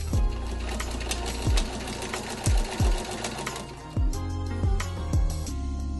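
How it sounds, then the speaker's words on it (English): A Singer 15-series straight-stitch sewing machine runs fast and close, sewing through thin soda-can aluminum in a steady mechanical whir, with a few heavier thumps as the needle punches through. "Can I sew through a soda can?"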